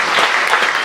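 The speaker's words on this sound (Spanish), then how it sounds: "Un aplauso al Señor por esa respuesta." A short burst of applause from a church congregation during a special tribute, brisk close clapping from a group, loud and brief with no voices over it.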